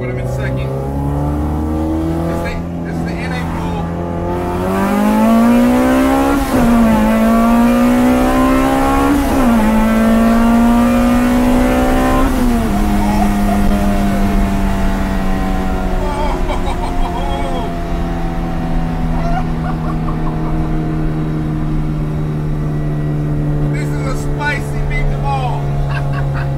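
A nitrous-fed, K-series-swapped Honda Civic EK pulls hard through its gears, the engine note climbing loudly, dropping at each quick shift and rising again, then settling into a steady high drone.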